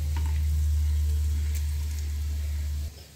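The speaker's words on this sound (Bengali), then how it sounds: "লঙ্কাটা বেশি ভাজতে হবে না, হালকা ভাজা হবে" Dried red chillies and garlic frying in butter for a dhaba-style palak paneer make a soft, steady sizzle over a strong low hum from the gas stove, which cuts off near the end.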